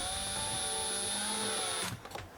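A small drill whines steadily up close for about two seconds, drilling part way into door trim on a 70 Series LandCruiser, then winds down and stops with a few light clicks.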